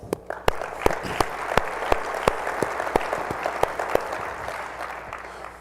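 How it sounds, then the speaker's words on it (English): Convention audience at a track and field coaches' opening session giving a round of applause, a broad steady roar of many hands with a few sharp nearby claps standing out. "Many of you deserve a round of applause for that as well."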